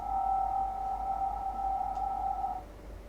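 A steady, ringing tone from a compressed reverb bus hangs on and on with a faint low hum beneath, fading out only near the end, like an endlessly self-sustaining reverb tail.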